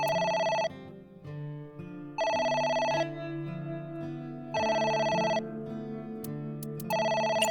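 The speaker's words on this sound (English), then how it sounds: "It's the phone. Maybe try picking it up?" A telephone rings in the video game AI: The Somnium Files, bright electronic bursts of ringing repeating at regular intervals over a soft, melodic background music track.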